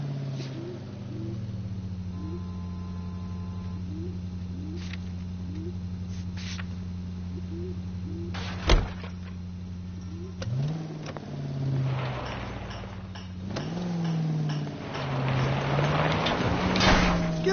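A car engine hums steadily while driving in L.A. Noire, a low drone under faint mechanical clicks, with one sharp knock midway before the motor surges and revs through gear changes toward the end.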